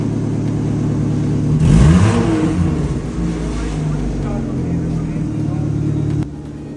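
A Dodge Challenger's engine revs in a sharp burst that surges and then settles into a steady idle rumble, with the sound cutting off abruptly near the end.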